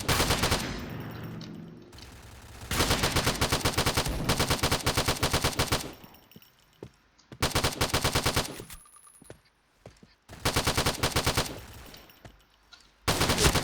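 Ultimax heavy machine gun fire in the shooter game Point Blank: loud, sustained automatic bursts of several seconds each, broken by short pauses, with no talking.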